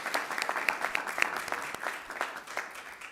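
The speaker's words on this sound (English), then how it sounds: "if we could give her a round of applause" A small room of attendees at a joint Regents and BESE board meeting gives a brief round of applause, individual claps audible and fairly faint, tapering off toward the end.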